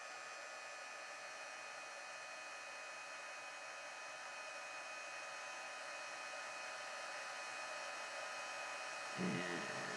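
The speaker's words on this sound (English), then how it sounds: "I have my heat tool, and I'm just going to heat emboss this until it turns white." A heat embossing tool blows a steady, airy whoosh with a constant whine, like a hair dryer, running unchanged for the whole stretch, with a brief soft bump near the end and no speech.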